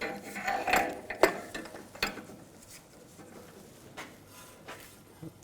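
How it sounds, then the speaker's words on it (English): Ratchet clicks while tightening an inner tie rod tool on a 2011-2018 Volkswagen Jetta, a few close, sharp mechanical clicks and metallic knocks in quick succession, then quieter shop background. "Now we're going to put the tie rod tool on."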